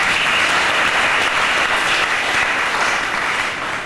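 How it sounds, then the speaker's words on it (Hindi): A large crowd at a spiritual meditation gathering claps loudly and continuously, a dense, even wash of applause with no voices. "तालियां बजाइए ध्यान के लिए"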